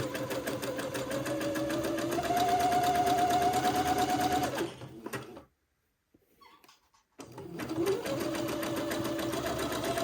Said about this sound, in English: And just begin to zigzag along the bottom of the sleeve.